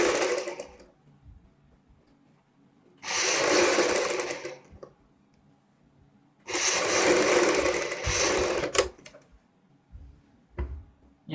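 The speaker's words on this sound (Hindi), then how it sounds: "एक साइड सिलाई कंप्लीट करने के बाद दूसरी साइड सिलाई लगाएंगे।" A sewing machine stitches lace onto a V-neck, running in two sustained whirring bursts separated by quiet pauses, close and fairly loud, with a few soft handling clicks near the end.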